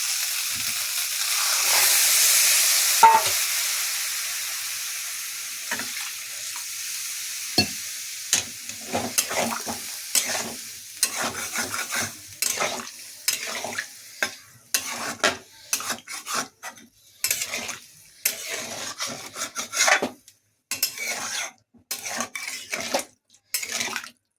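Water poured into a pan of Bengali fig and potato curry (dumur alu), a broad rushing hiss at first, then repeated scraping and clinking of a spoon stirring against the pot, close and steady with no talk.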